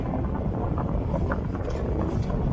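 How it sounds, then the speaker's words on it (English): Strong wind buffets the microphone in a continuous, heavy rumble with no other clear sounds. "It's windy, but it's alright."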